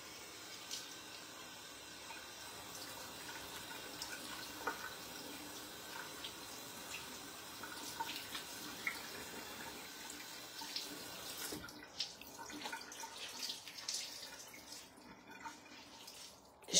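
Tap water running steadily into a sink during a morning rinsing routine, a close, continuous splashing wash with small drips and shifts in the flow.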